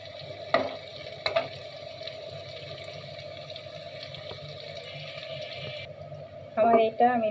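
Oil frying in a pan while an egg dish is cooked and stirred, a quiet continuous sizzle broken by a few scraping stirs, ending with a short burst of louder clatter and voice.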